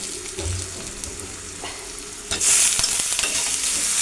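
Hilsa fish head and ground spices (turmeric, cumin, coriander, salt and dried chili) sauté in a pan, a soft stirring sizzle that suddenly swells into a louder, hissing fry partway through.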